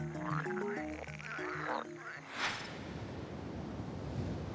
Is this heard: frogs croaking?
yes